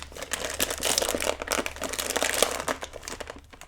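A plastic snack package of Slim Jim Fire Fries is crinkled and pulled at in close-up, a dense run of crackling rustles and small tearing bursts over a few seconds.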